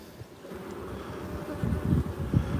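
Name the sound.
honey bees buzzing at an open hive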